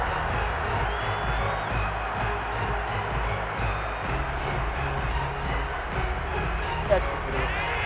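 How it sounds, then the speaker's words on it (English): Crowd noise in a football stadium in a video game, a steady roar of shouting and cheering that stays loud throughout, mixed under a commentator's talking. "Plenty of shouts from this crowd as they watch the replay."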